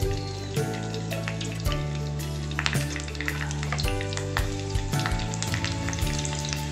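Curry leaves crackle and sizzle in about three spoons of hot oil, a steady frying hiss heard with background music, as the base for a moong dal pakora curry gets started.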